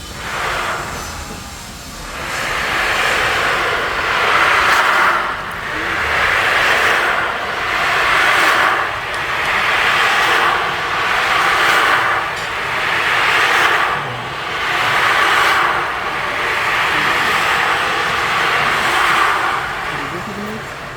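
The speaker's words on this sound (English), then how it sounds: "So this instrument called the washing sound, which brings the washing sound." Svaram sound garden instrument in Auroville giving a soft, swelling washing sound that rises and falls in about eight slow, regular waves, like surf, moderately loud and steady throughout.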